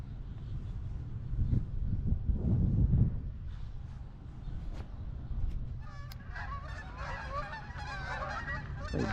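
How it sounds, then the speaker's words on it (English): Ducks or geese honking among the old monuments of Mountain View Cemetery in Oakland, California, a scattered chorus of calls rising in the second half over steady outdoor background noise. "Oh, there are a bunch of ducks, I think."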